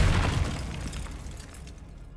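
A Bombarda spell explodes in the Hogwarts Legacy video game, a loud, deep boom at the start that decays into a rumbling tail over about two seconds.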